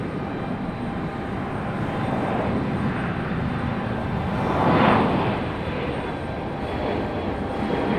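An airliner departs from Raleigh-Durham airport, its engine roar rising to a broad swell about midway before easing back into a steady background drone.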